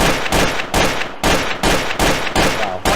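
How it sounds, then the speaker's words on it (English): Rapid bursts of gunfire in Garry's Mod Trouble in Terrorist Town, loud close shots firing in quick groups of several with brief gaps between them, filling the whole moment. "You enjoy shooting me"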